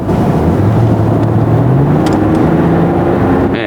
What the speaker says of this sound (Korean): 지금 요 가솔린 터보 엔진은 약간 좀 스포츠카 소리 같은 게 이게 나거든요